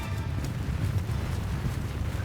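Horses gallop in a cavalry battle in Mount & Blade II Bannerlord, a dull, steady drumming of many hooves blurred into a continuous low rumble for a couple of seconds, with no voices.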